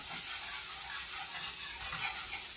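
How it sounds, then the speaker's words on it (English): Minced garlic sizzles in a hot pan for a white wine cream sauce, a steady, even hiss that carries on without a break and with nobody talking. "I'm going to add about a teaspoon of minced garlic. Okay. We're going to swish that around in there."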